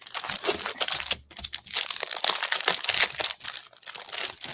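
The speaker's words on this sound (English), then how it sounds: "I'm just going to open this pack up." The plastic wrapper of a Hunkydory card topper pack is opened by hand, with loud, close crinkling and crackling in irregular bursts and brief pauses between handfuls.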